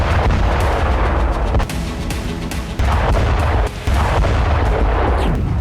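Heavy booming explosions from Ukrainian drone strikes in Russia rumble one after another, dense and loud, with brief dips between the blasts.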